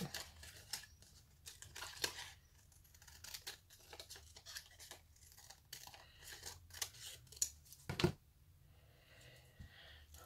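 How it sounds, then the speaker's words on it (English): Scissors snip through a paper book page in many small, quick, faint cuts, with crisp paper rustling and a louder crunch near the end, all close and without talk. "you probably need to cut it about 1 inch"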